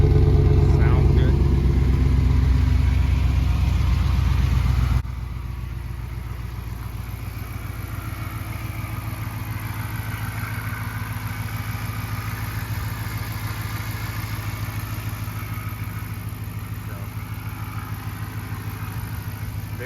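Jeep JK with a swapped 5.7L Hemi V8 and Jeep Speed Shop exhaust, a steady deep engine rumble that starts louder for the first few seconds, then settles into a lower, even idle with a voice over it early on.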